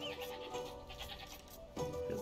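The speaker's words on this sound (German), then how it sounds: "Das sind ja Ziegen, das sind gar keine Schafe" Goats bleating in the Age of Empires 2 video game, several short nasal bleats close together over a busy game background, with one louder bleat near the end.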